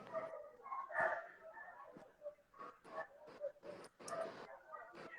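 Neighbours' dogs barking and yipping at a distance, a run of short irregular barks and whimpers, fairly faint, with quiet voices mixed in.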